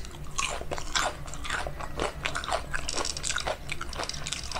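Close, crisp bites and crunching of crunchy chips in homemade tuna nachos, a steady run of sharp crackles and chewing with no talking.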